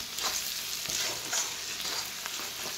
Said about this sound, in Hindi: एबे आम अंडा पकईया एबे अंडा पड़गला